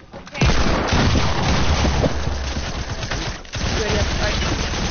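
Dense bursts of gunfire in the video game Fortnite, a loud continuous volley of shots with a short gap midway, with game speech mixed in.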